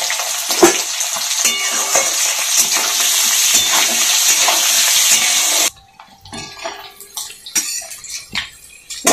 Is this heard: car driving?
no